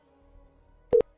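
Two short electronic beeps from a phone call being forwarded to voicemail, close and clear after a near-silent line, no talking.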